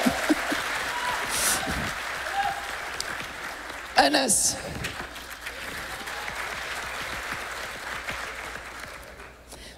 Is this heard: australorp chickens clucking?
no